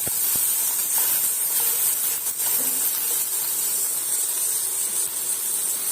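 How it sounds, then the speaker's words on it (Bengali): Vegetables lightly frying in a pan with a little salt, a constant bright sizzling hiss that stays loud and close, with a couple of faint knocks early on. "সবজিগুলো আমাদের হালকা ভাজা হয়ে গেছে।"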